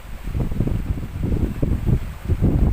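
Strong wind blowing across a rocky sea shore with small waves, a steady loud rumbling buffet with gusts that swell and ease throughout, no voices.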